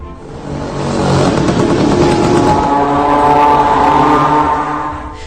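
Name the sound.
Shahed 136 drone engine buzzing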